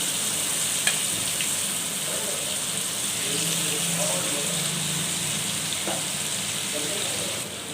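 Semolina-coated gandi fish fry in oil that is not very hot, giving a continuous close, bubbling sizzle throughout with an occasional light clink.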